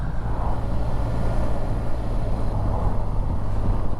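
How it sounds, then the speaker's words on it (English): Road traffic ahead heard from a moving vehicle on a coastal road near West Quantoxhead and St Audries Bay, Somerset, a steady close engine and road rumble with continuous wind noise and no pauses. "And I've now got traffic in front."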